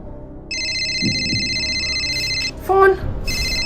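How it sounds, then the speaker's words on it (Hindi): A landline telephone rings with a steady electronic warble, pauses while someone briefly speaks, then starts ringing again. "फोन बज रहा है, उठाओ जरा।"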